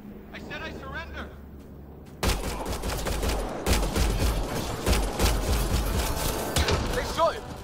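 Rapid gunfire from the video game Mass Effect Andromeda erupts suddenly after a quiet opening, sustained bursts and thumps continuing loudly to the end, with voices talking over the shooting.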